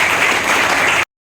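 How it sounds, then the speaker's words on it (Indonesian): A short burst of dense, loud applause from a school audience, continuous clapping lasting about a second before stopping abruptly. "Tepuk tangan dong."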